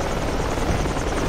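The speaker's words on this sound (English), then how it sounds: "Enemy helicopter above too." An enemy helicopter passing overhead in the military shooter game Project Reality, a loud, dense, continuous rotor roar and thrum filling the whole moment with no talk.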